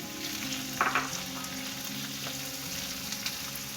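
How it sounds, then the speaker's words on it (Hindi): Almonds, dates, pistachios and raisins fry gently over a low flame in a pan, a soft steady sizzle with a few brief bursts of stirring, close and unaccompanied by talk. "ये सब चीज़ें डाल के हम इसे हल्की सी आंच पे फ्राई करेंगे।"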